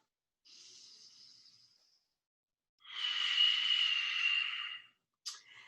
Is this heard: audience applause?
no